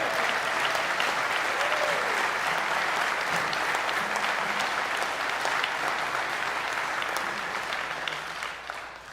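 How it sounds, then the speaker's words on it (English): Dense, sustained applause from a concert audience at a brass band performance, a loud, even wash of many hands that keeps going throughout and eases off slightly in the final second. "How about one more round of applause for Chris?"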